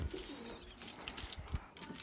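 Pigeons kept for pigeon flying in Punjab coo softly at close range, a brief, faint burble of low calls with light rustling around them.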